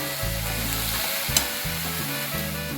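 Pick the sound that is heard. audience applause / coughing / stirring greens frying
stirring greens frying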